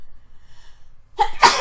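A single sudden, loud, close sneeze bursts out after a near-silent pause.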